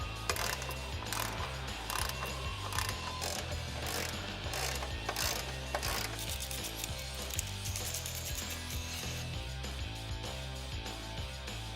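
A ratchet fitted with a 6mm Allen key socket tightens the step bar bolts on a 2007-2018 Jeep Wrangler JK. It makes a steady, close run of rapid clicking, with no talk over it, that goes on for the whole stretch.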